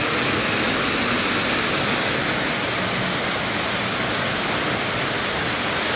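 Water rushes steadily at a pumping station, a dense, loud, unbroken roar filling the whole span with no pauses or talk.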